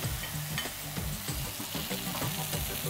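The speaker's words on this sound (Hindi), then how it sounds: "थोड़ा रेड चिली पेस्ट है। अब मैं इसको सौते कर रहा हूँ।" Red chili paste and chicken sautéing in a pan, a dense steady sizzle with repeated scraping stirs at a quick uneven rhythm, close and alone.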